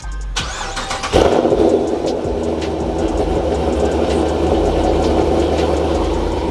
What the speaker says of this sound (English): I'm about to crank the car up.